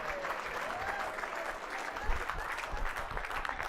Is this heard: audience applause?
yes